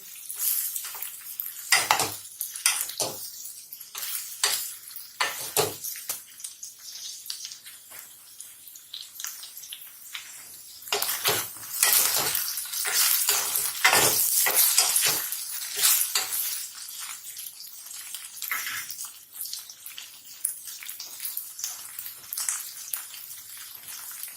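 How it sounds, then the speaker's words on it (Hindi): Okra (bhindi, lady finger) frying in oil in a pan, with bursts of crackling sizzle and stirring scrapes coming in irregular waves, close and fairly loud throughout. "इसे 2 मिनट तक फ्राई करेंगे।"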